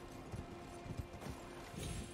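Horse hooves clip-clop in the Elden Ring video game, a steady rhythmic run of soft, muffled hoof falls at moderate, fairly constant loudness with no talking over them.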